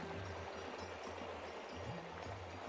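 A river in a scenic Konkan village setting flows steadily, a soft, even rushing of water with a faint low gurgle, heard alone and quietly throughout.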